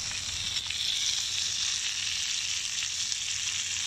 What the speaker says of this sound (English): Cooking mangrove jack in the mangrove,